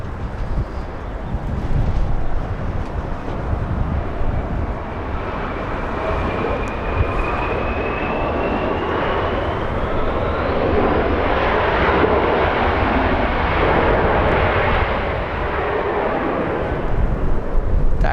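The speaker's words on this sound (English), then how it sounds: "Little Brazilian E175 flying in from San Jose, California." A SkyWest Embraer E175 regional airliner arrives at LAX, its jet engines roaring steadily and loud throughout, with a rising whine and rushing air as it passes close, mixed with wind noise.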